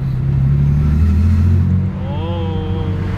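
A Ford AU Falcon engine rumbles loudly as it accelerates, its tone rising through a strong low drone before easing off and settling to a lower, steadier note.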